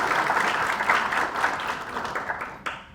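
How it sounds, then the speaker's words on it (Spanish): Audience applause at a panel discussion on employment, a dense burst of clapping that holds steady and then tapers off near the end. "Un aplauso, por favor."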